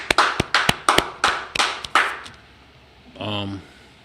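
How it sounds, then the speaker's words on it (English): A live-streamed church gathering claps in an even rhythm, about nine sharp claps, before a short vocal sound closes the clip. "Clap it up one more time,"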